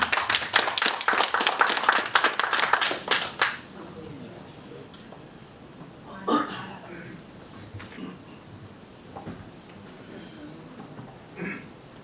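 An academy lecture audience claps to welcome a psychology professor to the stage, with brisk, close group clapping for a few seconds that quickly thins to a handful of scattered, quieter claps and faint room noise.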